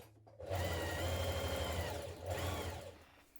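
Sewing machine stitching a pocket facing into place on a summer dress, a steady close whirring run with a brief pause and restart, no talking.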